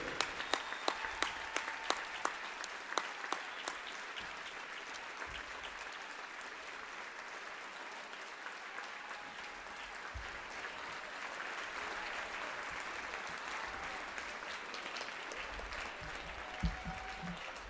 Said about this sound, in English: Let's take this opportunity to lift up the Oxford community with a round of applause